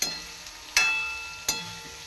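Carrots, onion and cabbage stir-fry in a hot pan, a steady sizzle with two sharp scraping clatters of the spatula as the vegetables are tossed and mixed.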